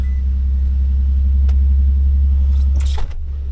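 A vehicle engine, apparently running on a weak battery, rumbling steadily at close range, with a brief clatter near the end as the idle shifts.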